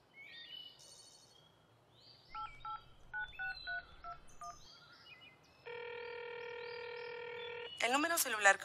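Telephone keypad tones beep in a quick series of separate presses, followed by a long steady phone tone and a brief voice at the end, all fairly faint.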